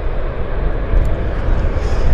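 Allison turboprop engines of a Convair airliner run at Vancouver Airport, a loud, continuous low rumble with slight fluctuations, heard alone without voices.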